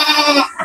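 Goat bleating on a small farm, a single loud, close call with a long wavering tone that trails off into a brief softer second bleat.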